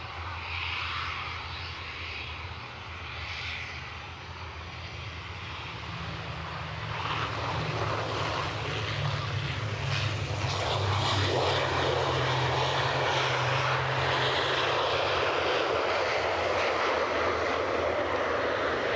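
ATR turboprop airliner droning at an airport, its engine noise swelling and growing louder as it nears, then holding steady and loud for the rest of the stretch.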